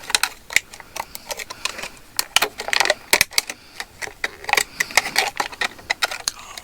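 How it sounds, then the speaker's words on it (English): Scissors cut a run of slits around the edge of plastic packaging, giving sharp, irregular snipping clicks close up with no talking. "probably to cut the slits first, okay, around the edge"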